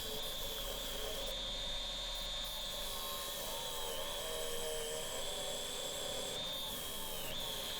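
An ash bowl hollowed on a wood lathe, giving a steady whining hum with a sustained high tone that wavers slightly as the tool cuts. The sound is faint and continuous.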